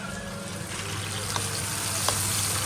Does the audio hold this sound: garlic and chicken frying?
yes